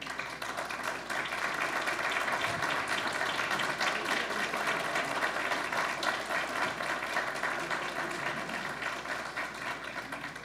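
Audience at a formal ceremony honoring a team applauds warmly and continuously, a dense wash of many hands clapping for about ten seconds without speech.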